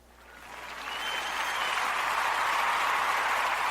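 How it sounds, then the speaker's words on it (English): Applause swells up from quiet over the first second into a full, steady round of clapping that holds evenly to the end. "Hey, you gotta get applause for that one."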